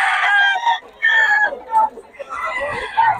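Bullstag rooster crowing at close range, loud repeated crows with clucking between them, amid people talking nearby.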